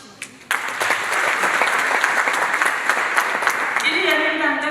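Audience applause at a youth volunteers' training session in Rwanda: a sharp clap or two, then a sudden loud burst of sustained clapping from a crowd that holds steady, with a voice speaking over it at the end.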